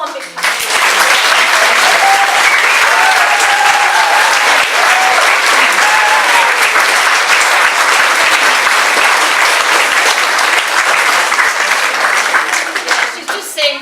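Loud, sustained audience applause fills a hall after a choir performance, a dense, steady wash of many hands clapping for about fourteen seconds before it starts to fade.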